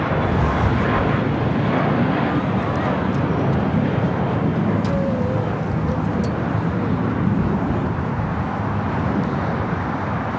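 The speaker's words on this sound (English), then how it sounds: "Japan Airlines Flight 69 heading back to Osaka, the 787-9 Dreamliner, number 3 for takeoff here on the south side" A Japan Airlines Boeing 787-9 Dreamliner takes off at LAX, a loud, steady broadband engine roar filling the air with a continuous rushing rumble that holds constant throughout.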